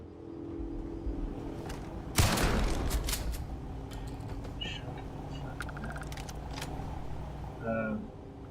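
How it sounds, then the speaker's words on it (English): Shotgun fire in the video game Starfield: one loud close blast lands early, followed by fainter scattered shots and clinks over a steady game background hum. "Shotgun it is."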